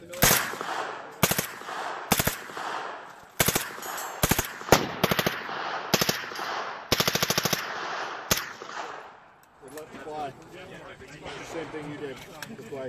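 Bursts of machine gun fire at an outdoor shooting event in Keene, New Hampshire, repeated short loud volleys spaced through the first eight seconds, then fading to background crowd noise and voices.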